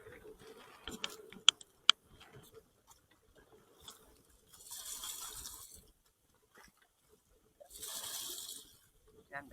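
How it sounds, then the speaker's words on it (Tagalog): Water is poured into a container holding a live red grouper on a boat, two splashing pours in a windy outdoor setting, each lasting about a second, after scattered faint knocks and ticks. "Tapos dagdagan natin ng tubig."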